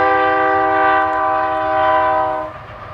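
A train horn blares in a long, loud, steady chord beside a free campsite near Highway 80, with the low rumble of the passing train beneath it, then cuts off near the end.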